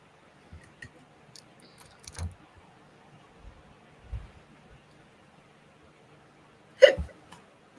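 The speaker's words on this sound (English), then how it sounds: "Hiccups." Hiccups from a person in an artist's studio: several small, sharp throat clicks spread across a quiet room, ending in one louder, close hiccup, with no talk.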